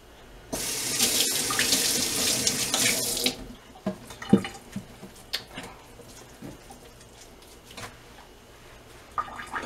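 Kitchen tap runs strongly for about three seconds while a teaspoon is rinsed during cake baking, then shuts off, leaving scattered clinks and small handling knocks in a quiet room.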